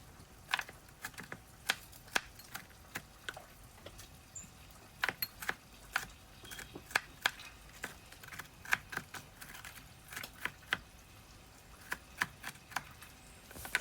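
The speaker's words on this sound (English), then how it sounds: "So I'm cutting up the onions." Onions being cut up on a board for a coconut-milk salmon dish, a series of quick, light, irregular knife taps, close but quiet.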